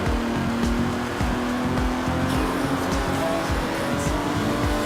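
Aston Martin Vantage engine with side-draft carburetors in Forza Horizon 4, a loud, close, steady engine note with a rapid pulsing rumble and faint tire squeal throughout.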